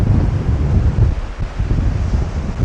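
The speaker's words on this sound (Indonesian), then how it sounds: "Mungkin karena di sini angin lagi kencang ya" Strong seaside wind buffets the microphone in loud, low gusts, with a faint wash of sea beneath the roar and no talking.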